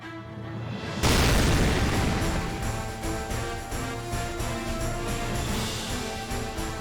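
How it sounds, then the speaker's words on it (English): Explosion attack in the video game Fate/Grand Order: a sudden loud boom after a second of quieter sound, then a dense, sustained rumbling roar with game music layered over it for several seconds. "Final explosion coaster."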